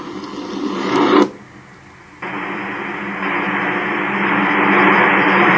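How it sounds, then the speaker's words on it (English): A sound machine hissing out steady ocean-surf noise. A louder burst cuts off into near silence, then the even rushing noise resumes and holds. "this one sounds like the ocean or the surf"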